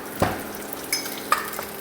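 Garlic frying in a pan gives a steady sizzle, broken by a few sharp clinks of a utensil against the pan.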